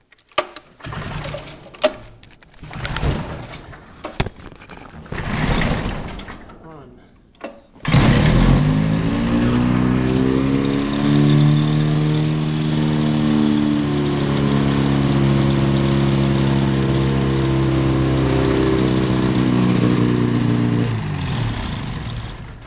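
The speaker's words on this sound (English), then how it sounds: "After it's been warmed up, it cranks the first time, usually." The engine of an old Quickie homebuilt aircraft cranks in a few short, uneven attempts, then catches and settles into a loud, steady running drone close by, with a person talking during the early cranking.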